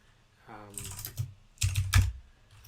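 Computer keyboard keys tapped in short bursts while a command is entered in a terminal, close and fairly quiet, with a brief spoken sound near the start.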